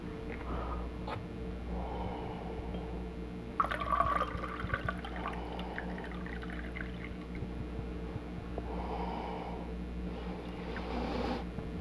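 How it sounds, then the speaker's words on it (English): Hot coffee being poured into a cocktail glass for a Jamaican coffee cocktail, a faint liquid trickle and splash set against a low background hum, with a brief clink of glassware midway. "Then we're going to hit that with some hot coffee."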